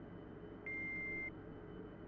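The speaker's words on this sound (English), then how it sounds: "Random beeping." A single steady electronic beep in the video game Detective Barbie: Mystery Cruise holds for about half a second, clear and fairly quiet over a low background hum.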